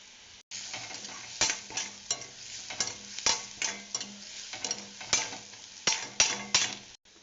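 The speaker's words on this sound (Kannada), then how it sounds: "ಒಂದು 1/2 ಸ್ಪೂನ್ ಉಪ್ಪು ಹಾಕಿ ಗೋಲ್ಡನ್ ಫ್ರೈ ಬರೋವರೆಗೂ ಚೆನ್ನಾಗಿ ಫ್ರೈ ಮಾಡಿಬಿಡಿ." Onions with half a spoon of salt and a pinch of turmeric fry in a pan for tomato rice, with a soft steady sizzle broken by a regular run of close spatula scrapes and taps, and no talking.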